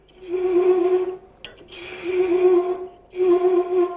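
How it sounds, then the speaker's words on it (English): A hand thread chasing tool cuts a thread into wood on a lathe, giving a steady raspy scraping in three sustained passes separated by short pauses, close and fairly loud with no talk. "nice clean shavings coming off from the chasing tool, which indicates it's sharp"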